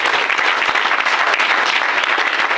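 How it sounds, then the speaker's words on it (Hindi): A loud, continuous round of clapping from a large audience greets the stage at a business gathering, thick and unbroken from start to finish. "आप सभी लोगों का जोरदार तालियों से मैं वेलकम करना चाहता हूँ।"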